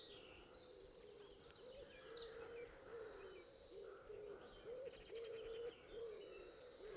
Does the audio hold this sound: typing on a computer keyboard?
no